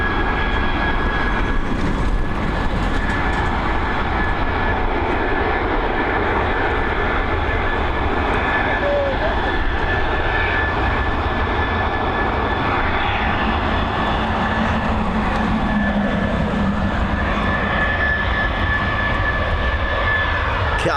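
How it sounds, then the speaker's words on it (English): Delta airliner on pushback at Dublin Airport, a loud continuous engine whine and rumble with a steady tonal hum throughout, close and unbroken for the whole stretch. "We've got Delta on pushback."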